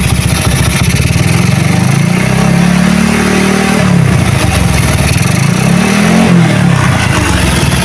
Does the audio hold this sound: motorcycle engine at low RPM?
yes